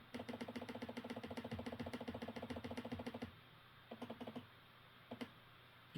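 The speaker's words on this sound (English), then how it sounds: "my trackpad is pretty noisy" Rapid, steady clicking of a noisy laptop trackpad close up, a dense run of taps that stops abruptly, followed by a few scattered clicks over a low hum.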